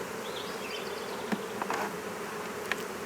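Honey bees buzz steadily from a nuc as it is moved into a hive box, a faint continuous insect hum with a few brief knocks and clicks of handling.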